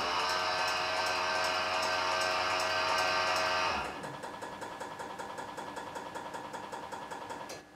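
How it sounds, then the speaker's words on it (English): BMW E46 ABS pump running under diagnostic activation, a loud steady mechanical hum for about four seconds, then stopping into a rapid series of rhythmic valve clicks repeating evenly until the end. "You're going to hear the pump, and then you're going to hear the valve open and close several times."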